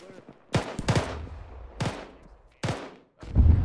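Gunfire in a military video game: several sharp, loud single shots and short bursts in an irregular rhythm, close by, separated by brief quiet gaps, with faint voices in the background.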